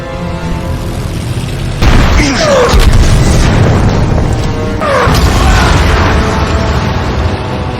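An anti-tank weapon attack in a battle: two loud, heavy booms several seconds apart, each followed by a long rumbling roar of debris and noise.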